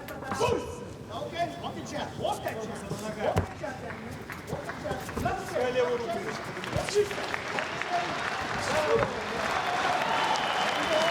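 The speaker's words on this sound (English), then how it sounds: "And the crowd starts to react." Crowd at a mixed martial arts fight reacting with scattered clapping and murmuring, rising gradually toward the end beneath continuous commentary.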